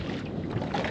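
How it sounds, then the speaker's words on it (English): Wind gusts across the microphone on a fishing boat at Port Stephens, a steady rushing roar with low buffeting throughout, close and without talk. "Oh, this wind."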